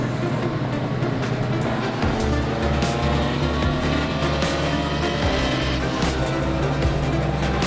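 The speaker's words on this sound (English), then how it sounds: "here comes our bracket racers around turn number 10" Several race car engines roar and whine continuously, overlapping as cars drive past turn 10 on a track in a bracket race, loud and close with shifting pitch.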